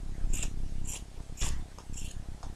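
Scissors snipping through fabric for a porcelain doll's dress, a steady series of short rhythmic cuts heard close up over a continuous background of music.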